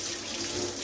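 Tap water runs steadily into a sink as Singer 431G sewing machine motor parts are rinsed, a close, continuous splashing rush with no voices.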